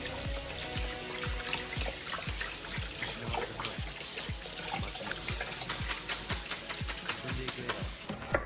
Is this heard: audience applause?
no